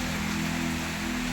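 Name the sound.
unseasonal rain falling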